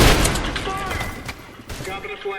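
Loud explosion and gunfire bursts in the video game Trepang2 at the start, followed by crackling blasts and debris with voices talking over the chaos.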